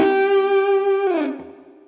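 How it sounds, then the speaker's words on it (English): Electric guitar playing a quick three-string sweep-picked arpeggio on a major or minor triad, ringing with a bright, lightly distorted tone, followed by a bending slide that fades out; loud and close, no talking. "I'm just talking about little three string sweeps based on major or minor triads that sound like this."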